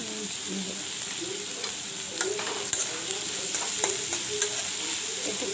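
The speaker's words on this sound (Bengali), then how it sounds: "এরপর এটাকে জোর বাড়িয়ে দিয়ে ভালোভাবে ভেজে নেব।" Onions sizzle steadily in a hot pan, with salt added to speed the frying, while a utensil stirs and scrapes in irregular clicks over the constant crackling hiss.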